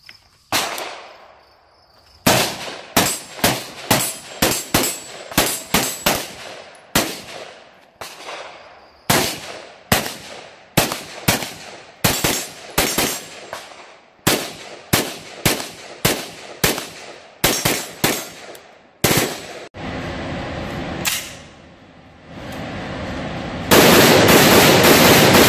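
A CZ-USA Bren 2 (805 Bren) rifle fires a long string of loud, sharp shots, close up, in quick uneven bursts with short pauses, ending in a stretch of dense, continuous noise.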